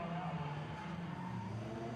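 Drift cars launch at a street league event, a chase car following a small Miata, their engines blending into a steady, distant roar with a rising and falling engine tone and faint tire noise throughout.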